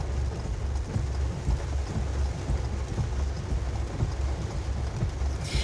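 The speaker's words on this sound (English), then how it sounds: "that rain is so torrential" Torrential rain from Tropical Storm Debby in North Carolina pours steadily with a dense hiss, while low thunder rumbles underneath in rolling surges, heard from inside a car.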